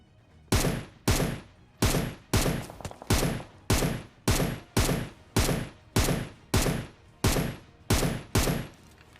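Gunfire rings out in the mobile battle-royale game BGMI as about fourteen sharp, loud shots, evenly spaced roughly every two-thirds of a second. The shots sound alone, with no talk.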